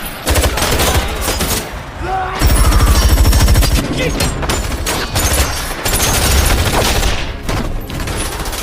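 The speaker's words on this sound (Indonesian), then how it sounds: "Dan iya, acara tembak-tembakan pun berlangsung rame anjir." A movie shootout from Wrath of Man erupts in dense, loud bursts of automatic gunfire and rapid shots, echoing booms layered throughout with hardly a pause.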